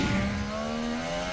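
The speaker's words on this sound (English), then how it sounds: "And just about to see, out of that corner, Valtteri Bottas get ahead of the McLaren." A Formula 1 car engine at the 2019 Hungarian Grand Prix gives a loud, high-pitched whine that sweeps steadily as the car passes, heard alone without talk.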